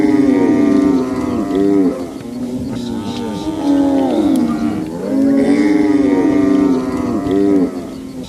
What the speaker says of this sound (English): to our first sight, we see the livestock